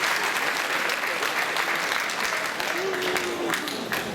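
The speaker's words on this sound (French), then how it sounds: "On applaudit." An audience applauds at a 2014 amateur singing contest in Bain de Bretagne: steady, dense clapping from a crowd that fills the whole stretch at an even, loud level, with a voice faintly present underneath.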